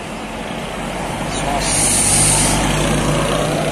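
A Surya Putra tour bus passes along a road in Ciamis, its engine rumble swelling as it nears, with a brief high hiss partway through.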